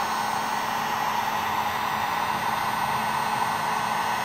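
A heat gun blows steadily on a car badge's adhesive while debadging a Ford Escape SVT, a loud, continuous, even hiss and whoosh of hot air with no talking.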